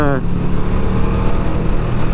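Ducati Streetfighter V2 motorcycle engine held around 4,000 to 5,000 rpm in road mode with slightly clunky on-off throttle, a loud, steady close-up drone with a brief rising tone at the start.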